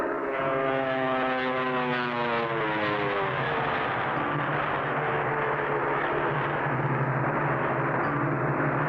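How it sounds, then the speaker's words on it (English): A cartoon propeller airplane engine drones loudly and steadily, its pitch sliding as it passes close overhead. "I think I heard another plane."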